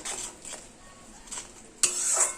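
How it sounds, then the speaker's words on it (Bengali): Spices and onion stirred and fried together in a pan over a low gas flame, with ginger paste added, giving a soft steady sizzle and intermittent scraping strokes, a sharper clatter near the end. "এবার পেঁয়াজের সঙ্গে সব মশলা খুব ভালোভাবে কষিয়ে নেব।"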